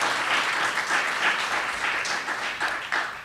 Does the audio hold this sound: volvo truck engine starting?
no